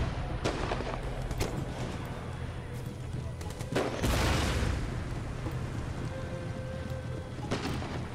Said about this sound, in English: these guys need to fire some shrapnel shot